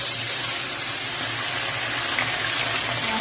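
Tilapia fish frying in a pan over a lowered gas flame, a steady close sizzling hiss that runs unbroken throughout.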